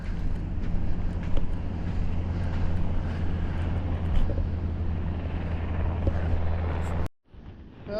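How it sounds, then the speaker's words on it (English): A Black Hawk helicopter's steady, low rumbling drone hovers in the distance over a beach, droning evenly for several seconds before cutting off abruptly. "There's a Black Hawk helicopter kind of hovering over there."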